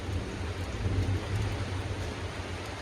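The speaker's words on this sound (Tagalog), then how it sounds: "Grabe yung ulan mga idol, kalakas" Steady, dense rainfall pours down continuously, a heavy broadband hiss with a low rumble underneath, no voices.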